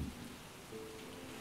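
Steady rain falls throughout, a continuous even wash of drops on a surface with no talk, forming a soft background bed in a Tamil drama scene.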